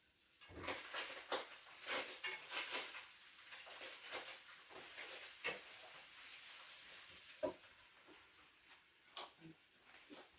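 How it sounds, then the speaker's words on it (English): Browning hamburger meat being stirred in a pan for chili, with a soft sizzle under repeated scraping and clinking of the utensil against the pan in an uneven rhythm. "I'm just going to give our hamburger a stir."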